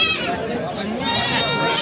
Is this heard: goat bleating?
yes